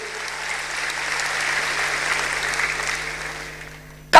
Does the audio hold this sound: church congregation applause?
yes